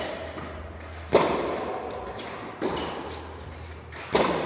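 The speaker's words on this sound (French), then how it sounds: "Et c'est une balle de match pour Massiva." Three sharp tennis ball strikes off rackets during a match-point rally at a club tournament, spaced about a second and a half apart, moderately close over a steady low hum.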